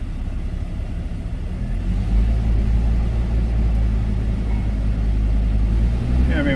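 An all-wheel-drive vehicle with a broken transfer case idles and drives in gear, a loud, steady low engine rumble that deepens and swells after a couple of seconds, with someone talking over it.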